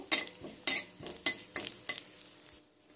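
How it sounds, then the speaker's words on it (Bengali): Cumin seeds sizzling in a little white oil in a wok are stirred with a metal spoon, giving five or six rhythmic scraping strokes over a frying hiss, close and clear, ending in quiet with no voices. "ওর মধ্যে অল্প একটুখানি সাদা তেল দিলাম, হাফ চামচ সাদা জিরে দিলাম। এটাকে একটু নাড়বো।"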